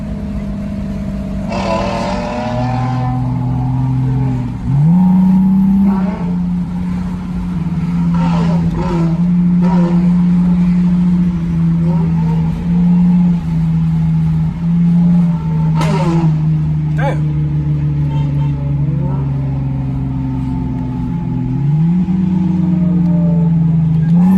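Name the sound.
sports car engines revving loudly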